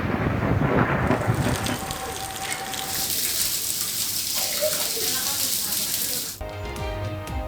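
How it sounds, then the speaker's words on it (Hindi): A loud thunderstorm with strong winds and rain in Lahore: heavy rain hisses steadily while deep thunder rumbles roll through, ending abruptly in a cut to a different sound. "लाहौर के मुख्तलिफ इलाकों में तेज हवाएं और बारिश।"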